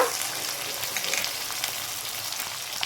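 Cabbage, potato and peas sizzle steadily in a hot pan with ginger paste, a dense crackling hiss with occasional stirring, close and fairly loud.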